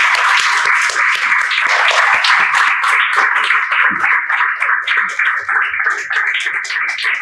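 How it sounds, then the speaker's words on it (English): An audience claps in welcome at an interactive session, dense steady applause that stays loud and even for several seconds before thinning slightly toward the end. "I welcome with a huge round of applause"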